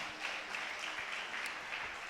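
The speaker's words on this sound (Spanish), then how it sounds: "Dale fuerte ese aplauso al Señor" A church congregation at a Sunday worship service claps together in a soft, distant wash that stays even and continuous for a couple of seconds.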